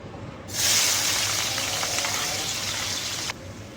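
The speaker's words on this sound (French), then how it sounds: "J'aime bien frire les oignons et les céleri en même temps." Chopped onions and celery hit a pan of half olive oil, half vegetable oil and burst into a loud, even sizzle, a bright steady hiss that holds for a few seconds before cutting off abruptly.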